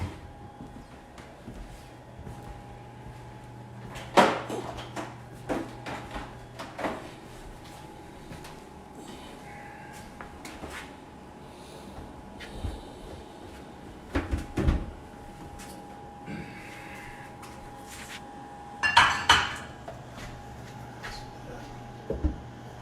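Kitchen cupboard doors and drawers knock and thud a few times while cooking equipment is put away during homemade sauce and meatball preparation, with scattered clatter and quiet gaps between bursts.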